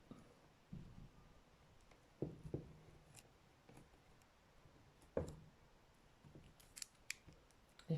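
Scissors are handled at a craft table during bookmark making, giving scattered close clicks and snips with quiet pauses between them and a soft low rustle underneath.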